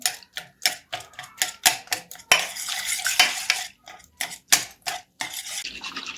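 Buttermilk being stirred with a spoonful of urad dal batter in a bowl, a quick run of sharp, rhythmic clinks and scrapes of a spoon against the vessel, close and loud with a brief denser burst midway.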